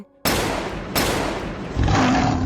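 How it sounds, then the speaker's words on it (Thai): Two sharp gunshots ring out in quick succession, loud and close, followed by a rising rumbling roar. "เสียงปืนแกบจากคนงานที่นั่งหุงข้าวอยู่ ก็ดังขึ้นมาสองนัดติดติดกัน"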